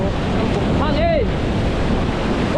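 Strong wind roars continuously across an open shore, with a faint brief whistle-like cry in the middle.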